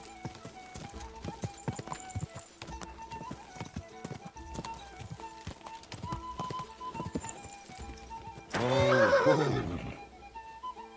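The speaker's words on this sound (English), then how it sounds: "My horse is about ready to run out of stamina" A horse gallops with continuous close hoofbeats in the video game Kingdom Come Deliverance 2, then lets out a loud, drawn-out neigh near the end; a short voice exclamation is heard.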